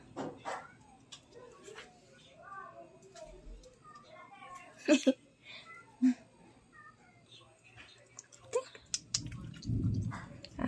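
A cat meows a few times amid soft clicking and chewing noises as it eats chicken broth with moringa, with a person talking nearby throughout.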